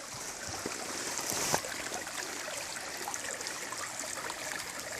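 River water flowing steadily, a continuous soft rushing and trickling hiss at moderate distance, with one brief sharp knock partway through and no talking.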